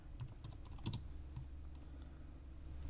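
Computer keyboard typing during web-development work, a steady run of quick key clicks close to the microphone over a constant low background hum, with no talking.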